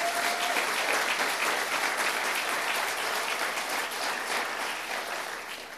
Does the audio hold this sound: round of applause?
yes